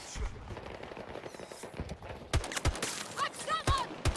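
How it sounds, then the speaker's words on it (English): Single-tap shots from an RM68 rifle crack in the Call of Duty video game, several sharp evenly spaced reports in the second half over busy in-game ambience and effects. "The single tapping with the RM is still really nice."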